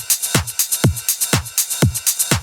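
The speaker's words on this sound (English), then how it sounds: "we're going to make drums that sound like this" A steady electronic dance beat: a punchy deep kick on every beat with crisp hi-hats ticking between, looping in a tight, even groove.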